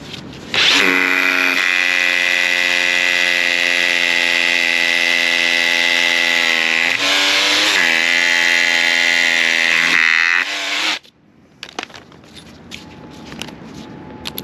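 A loud power drill whines steadily for about ten seconds, drilling into asphalt, dipping briefly midway, then stops, followed by light clattering and handling sounds.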